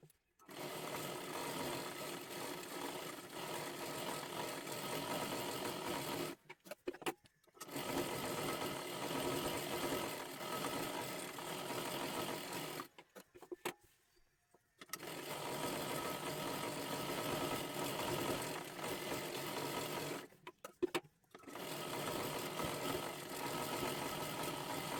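Sewing machine stitching a seam on a girls' one-piece dress. Several long runs of rapid, steady mechanical whirring, close and even, are separated by short pauses with handling clicks.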